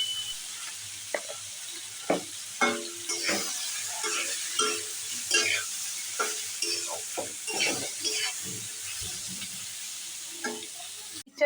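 Pieces of young jackfruit fry in a pan as they are stirred, a soft continuous sizzle broken by frequent scraping strokes of a spatula, close and fairly quiet, with no talk.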